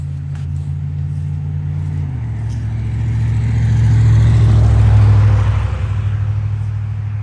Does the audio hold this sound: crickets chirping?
no